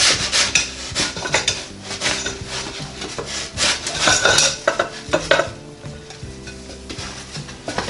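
A pizza stuck to a pizza stone in a NuWave Primo grill oven gets scraped loose with a utensil, rough rasping and scraping strokes repeating close by, loud and uneven.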